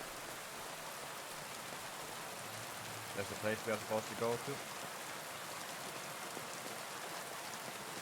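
Steady downpour in Kingdom Come: Deliverance II keeps hissing loudly throughout, while someone briefly speaks partway through, his voice half buried under the rain.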